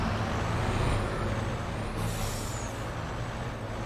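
A heavy lorry in Farming Simulator 22 pulls a load, its engine giving a continuous low rumble with a faint high whine above it and a brief hiss partway through.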